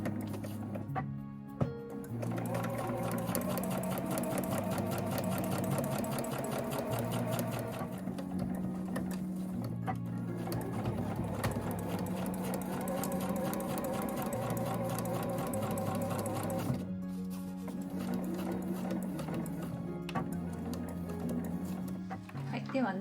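A home sewing machine stitches a nylon tote bag, its steady mechanical whirring running continuously with short pauses, while a voice talks over it.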